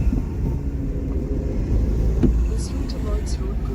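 Steady low road rumble fills a car's cabin as it drives the National Highway 16 route from Cuttack toward Kolkata, a constant engine and tyre drone with a voice now and then.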